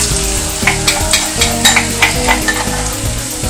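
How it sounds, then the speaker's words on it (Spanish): Garlic frying in a pan for a salt cod stew, a loud, close, continuous sizzle with rhythmic stirring scrapes and no talking. "ahí estamos quemando un poquito de ajo"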